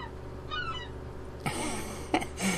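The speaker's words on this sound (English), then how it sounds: "That's a reasonably annoying seagull." A seagull cries in the Ship Simulator game, several short, shrill calls coming in bursts over a low, steady hum of ambient noise.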